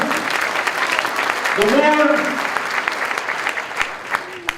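Audience applause at a Chabad community celebration, steady clapping with a voice briefly rising over it midway before the clapping thins toward the end.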